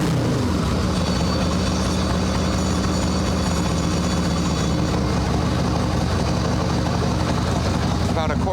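An Evo Sportster chopper motorcycle engine warming up and running with no choke, a dense steady loud mechanical idle close by, with someone speaking briefly over it.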